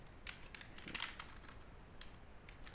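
Quick, light keystrokes on a computer keyboard while web code is written, coming in irregular short bursts that stay faint and close over a steady background hiss.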